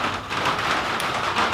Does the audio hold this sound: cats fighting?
no